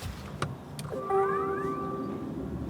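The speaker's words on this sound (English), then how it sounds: "There was a little beep to tell us that the car had switched on" An electric car gives a short electronic beep tone as it switches on, clear and close, followed by a faint steady hum.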